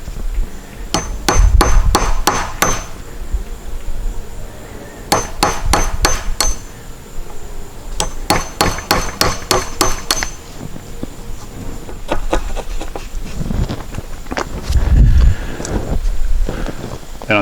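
A chisel is driven into wood on a backyard pavilion build, sharp mallet strikes landing in quick bursts of four to six blows with short pauses between, close and loud over faint background music.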